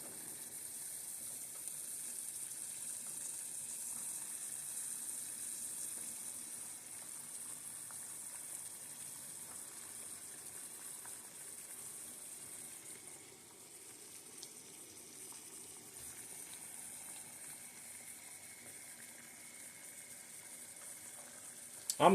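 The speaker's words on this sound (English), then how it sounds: "it's coming to a royal boil, a rolling boil" A pot of water at a rolling boil on a stovetop gives off a faint, steady bubbling hiss that runs on without a break.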